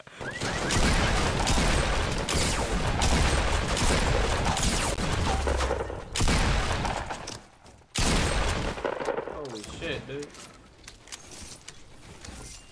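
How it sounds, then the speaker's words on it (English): Gunfire in the video game Fortnite, a dense loud stretch of rapid shots with a short pause before a second burst, then quieter scattered sounds toward the end. "letting off them shots right there"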